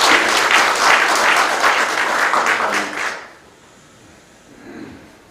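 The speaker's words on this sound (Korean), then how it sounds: "심찬 박수가 좀 필요할 것 같은데 박수 한번 해주세요" An audience at a city mayor's 2022 town hall meeting with residents gives a burst of hearty applause that runs for about three seconds, then stops abruptly, leaving a quiet room with faint murmuring.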